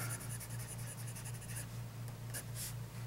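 Steel-nibbed Esterbrook Estie Oversized fountain pen writing with Platinum Smoke Black ink, a faint, steady scratch of nib on paper with short bursts of strokes against a low background hum, no talking.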